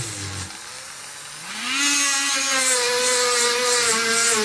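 An imitation Dremel rotary tool spins up from a low start to a steady high whine, polishing acid-treated metal on an old Mac Classic, loud and close with a slight wavering pitch.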